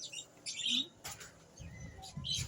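Small birds in a pet shop giving a few quick, faint chirps and tweets in short bursts, with low background rumble and shuffling between calls.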